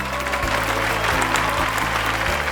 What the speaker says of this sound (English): that was a lot of applause